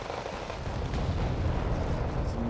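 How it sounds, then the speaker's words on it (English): A close artillery hit in the Wargame Red Dragon strategy game: a sustained, rumbling, low explosion roar that fills the whole moment at a moderate level. "Some very close artillery hit here."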